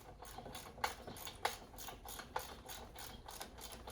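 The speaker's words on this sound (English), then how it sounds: "And on to reinstalling the 3 nuts that we took out earlier." Ratchet clicks in short bursts as nuts are tightened back onto a track car's exhaust after a de-cat install, close and fairly quiet, with a few sharper clacks between the runs.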